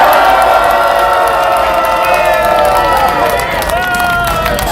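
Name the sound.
crowd applause and cheering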